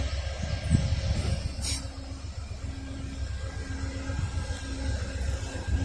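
An Amtrak Northeast Regional train rolls across a track crossover, heard as a steady low rumble with rhythmic wheel clatter and a faint high squeal, moderately distant and continuous throughout.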